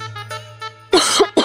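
Someone coughs at night, two or three harsh, close coughs in quick succession after a short stretch of quiet with a low steady hum underneath.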